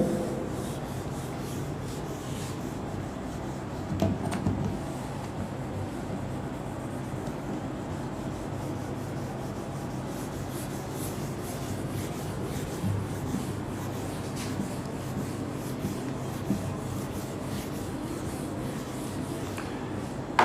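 Writing is rubbed off a board with steady, continuous scrubbing strokes close by, without pauses or talk.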